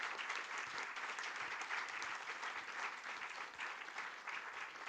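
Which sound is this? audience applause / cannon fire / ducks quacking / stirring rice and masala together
audience applause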